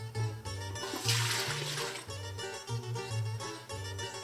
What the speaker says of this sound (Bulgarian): толкова слагаме равни количества вода